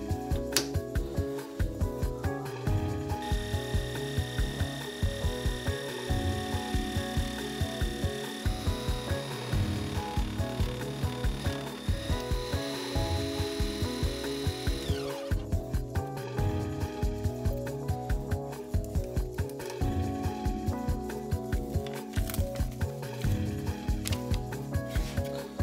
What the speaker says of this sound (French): Et je finis de faire les trous avec la scie à chantourner.